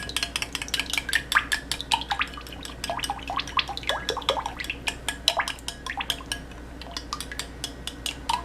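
Whisk clicking quickly and repeatedly against a bowl while mixing a thickening homemade hand sanitizer of alcohol and lemon essential oil, a close, fairly quiet, steady rattle with no talking.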